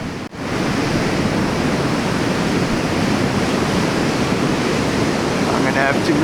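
Heavy surf from a powerful swell at J Bay: a constant loud broadband roar of crashing, churning water, steady throughout after a brief dip at the start, with wind rumble on the microphone.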